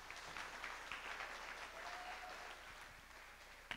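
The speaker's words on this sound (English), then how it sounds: "Let's give him another round of applause." Audience at a high school spring concert claps steadily in an auditorium, a soft, even patter of many hands that holds throughout and ends with a few louder final claps.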